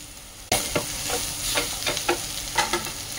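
Green chillies drop into hot oil with turmeric and burst into a loud sudden sizzle, followed by continuous frying with repeated clicks and scrapes of stirring close by.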